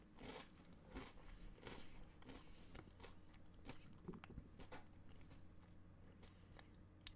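Close crunchy bites and steady chewing of Samyang Hot Chicken Flavor crisps from Korea, repeated crackly crunches in an irregular rhythm, quiet and intimate with no talking over it.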